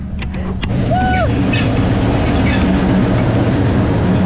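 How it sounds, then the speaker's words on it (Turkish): A train passes close by in Sri Lanka with a loud steady rumble and rattle of the wagons, plus a few brief squeals near the start. "Tren geldi."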